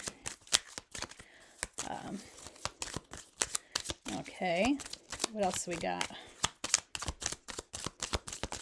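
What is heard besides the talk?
shuffling tarot cards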